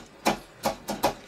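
Four dull knocks of fingers tapping on a table, close and moderately loud, falling in an uneven beat with a brief gap between the first and the rest.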